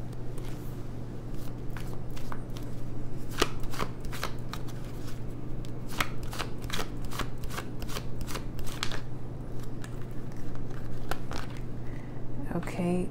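A deck of tarot cards shuffled by hand during a reading: repeated sharp card taps and riffles over a steady low hum, close and moderately loud, no talk.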